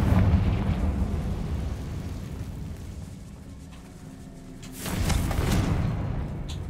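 A Confringo spell in the game Hogwarts Legacy bursts with a rumbling explosive boom at the start, fades into a low roar, then a second blast hits near the end, loud and close.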